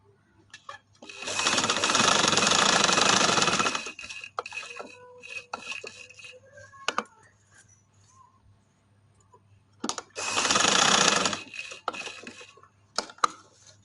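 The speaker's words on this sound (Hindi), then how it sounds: "इस तरह लगा लूंगी सिलाई" Close, loud bursts of a sewing machine stitching a dress, two long runs of rapid whirring separated by quiet stretches with scattered handling clicks and thumps of fabric being moved.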